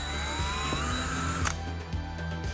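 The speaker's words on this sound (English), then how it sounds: "And there is exactly where I need to drill. I use the 3/16 drill bit." A power drill with a 3/16 bit whines steadily up close while drilling a hole in a Pontiac Fiero, its pitch rising slightly before it stops abruptly, leaving a low hum behind.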